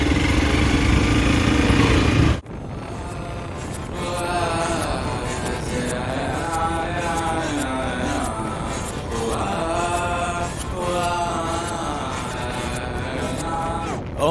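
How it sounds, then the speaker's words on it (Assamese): A motorcycle rides through Moran town, its engine droning steadily with a rising and falling pitch as it shifts through the gears. Loud wind buffeting fills the first two seconds. "বাইক চলাই আছোঁ।"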